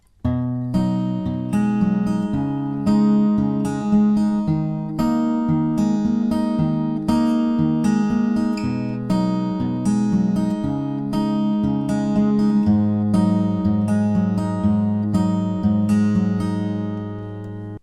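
A song's chorus fingerpicked on an acoustic guitar, with a steady alternating bass on the open sixth string under ringing plucked treble notes, played close and clear with no voice over it.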